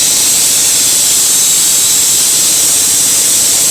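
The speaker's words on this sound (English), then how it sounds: "This is the #1 reason to periodically drain your compressor." A shop air compressor drain blasts out water and compressed air in a loud, steady, harsh hiss that stays constant and close throughout, with no talking.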